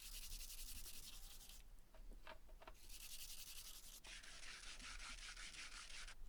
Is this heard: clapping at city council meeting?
no